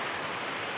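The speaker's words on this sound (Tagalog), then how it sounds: "Napakalakas na po ng ulan." Heavy rain on a mountain, falling in a dense, even, hissing wash of broadband noise, steady and loud throughout with no voices.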